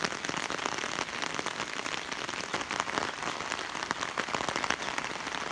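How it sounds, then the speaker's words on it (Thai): Heavy rain pours steadily on a forest in rural southern Laos, a dense, continuous hiss of drops pattering on leaves and surfaces with no pauses, close and fairly loud throughout. "ฝนตก"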